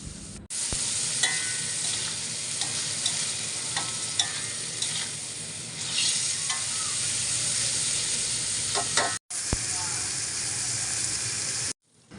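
Spiced beef filling for puli pitha frying in a pan, a steady loud sizzle with frequent stirring scrapes that runs almost unbroken, with two brief breaks.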